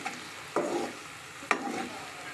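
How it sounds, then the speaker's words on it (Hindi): Garlic frying in a pan at the start of making saag, a soft steady sizzle broken by two brief stirring scrapes, close and fairly quiet, with no voices. "बस इसको ज़रा लहसुन का रंग बदलने तक हम फ्राई करेंगे"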